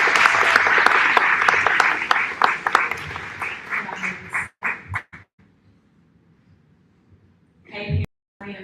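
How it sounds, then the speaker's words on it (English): A school audience applauds 5th grade graduates receiving science honor cords, a dense burst of clapping that fades out after about four seconds, followed by a quiet pause and a brief return of a voice. "so everybody give them a round of applause."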